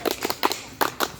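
A group's scout clap (tepuk pramuka) performed twice at an outdoor scout training camp, with sharp, close, rhythmic clusters of claps in two quick rounds separated by a brief pause.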